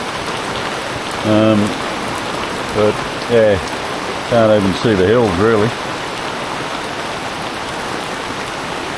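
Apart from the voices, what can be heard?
rain falling on a boat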